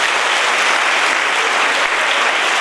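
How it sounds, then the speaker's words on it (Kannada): Loud, dense applause from a school audience at an Odiyuru Sri Gurudeva Vidyapeetha gathering, steady clapping filling the whole stretch without any speech. "ನೀವು ಜೋರಾಗಿ ತಟ್ಟಿ ನೋಡುವ."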